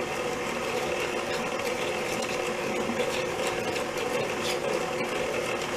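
Linzer torte dough with spices is mixed by an electric mixer, a steady, loud, continuous mechanical whir with a fine rattling texture throughout.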